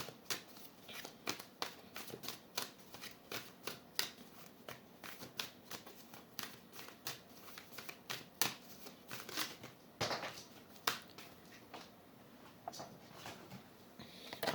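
Tarot cards being shuffled by hand, a steady run of soft papery riffles and flicks close up, quiet and without talk.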